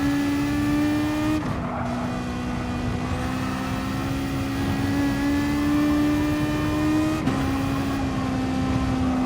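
A Toyota race car laps Bathurst in Gran Turismo 7, its engine droning loud and steady in a high whine. Two sharp gear shifts break the tone, with faint tire noise underneath and no talk.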